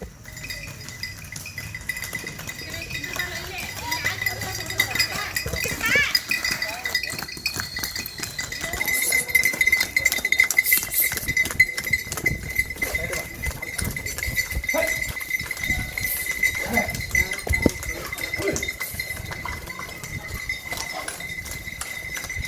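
Clinking bells and clopping hooves from a pair of farm bullocks in Dharwad city, a jangling metallic ringing over shuffling steps, with voices talking nearby.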